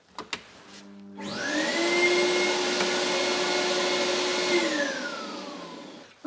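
A workshop dust extractor beside a miter saw, triggered by a wireless switch, spins up quickly from silence into a loud, steady vacuum roar with a high whine, holds for about four seconds, then winds down as it shuts off.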